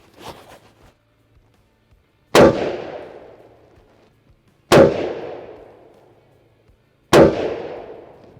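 Three loud, sharp rifle shots from a POF P415 Edge AR-15 firing SIG 77 grain OTM match ammunition, spaced a couple of seconds apart, each with a long decaying echo, following faint handling noises.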